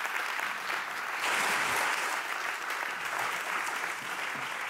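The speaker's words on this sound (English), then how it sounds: "Give them an applause." An audience at a Pakhuis de Zwijger panel event applauds invited panelists, sustained dense clapping from a full room that swells slightly midway and carries on steadily without talk.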